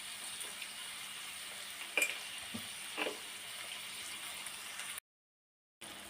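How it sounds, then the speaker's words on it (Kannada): Tomatoes frying in a pan for a bitter gourd gravy give a steady soft sizzle with a few brief stirring clinks, fairly faint and close, with no talking, then a short cutout near the end. "ಟೊಮೆಟೊನ ಹಾಕಿ ಚೆನ್ನಾಗಿ ಫ್ರೈ ಮಾಡೋಣ."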